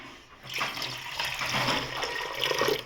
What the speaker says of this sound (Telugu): ఇప్పుడు 2వ కప్పు కూడా వాటర్ పోసేసి